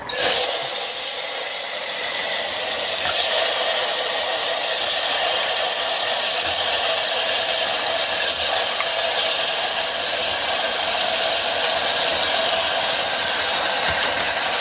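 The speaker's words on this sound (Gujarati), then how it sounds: "મેં વઘાર નાખું" Mustard seeds and asafoetida tempering in hot oil for an eggplant and potato curry, a loud, dense, continuous hiss and sizzle that holds steady for the whole stretch.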